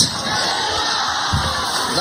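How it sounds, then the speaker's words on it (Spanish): A crowd in San Basilio de Palenque cheers and applauds for President Petro, a dense, steady roar of ovation with scattered shouts throughout. "Ahí finalizó con la ovación"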